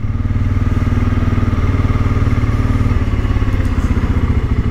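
A Voge 650 DSX big single-cylinder motorcycle pulls away at low speed with a loud, close, steady low thumping exhaust pulse that runs unbroken throughout.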